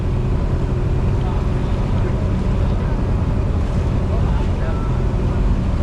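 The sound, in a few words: ferry boat to Boracay Island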